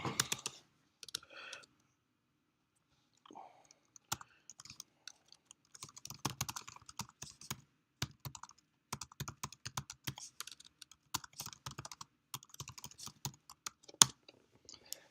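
Typing on a computer keyboard, quiet irregular bursts of key clicks with short pauses between, close and alone without speech.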